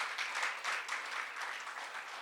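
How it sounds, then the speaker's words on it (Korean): A church congregation at a revival service applauds with soft, steady clapping that sounds fairly distant and continues at an even level throughout. "이쯤 되면 우리 박수로 하나님께 영광을 올려드리겠죠."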